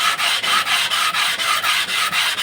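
A Suzuki Satria FU camshaft part is rubbed back and forth on sandpaper glued flat to glass, making a close, loud, rhythmic rasping with about ten even strokes and no talking.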